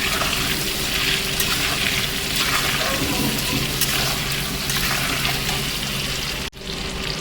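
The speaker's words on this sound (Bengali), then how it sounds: "এইভাবে আমি আলুটা নাড়িয়ে চাড়িয়ে লাল লাল করে ভাজা করে নেব" Potatoes with turmeric and salt frying in oil in a pan, a steady close sizzling hiss that runs evenly throughout and cuts off briefly near the end.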